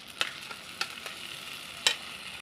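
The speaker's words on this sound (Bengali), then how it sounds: "এখন আমি এর মধ্যে দিয়ে দেবো, এখানে আছে পেঁয়াজ, আদা, কাঁচা লঙ্কা আর একটা ছোট্ট একটা টমেটো দিয়েছি।" A paste of onion, ginger, green chili and a small tomato fries quietly in a pan for a prawn dish. There is a soft, steady sizzle, broken by a few sharp spoon taps and scrapes against the pan.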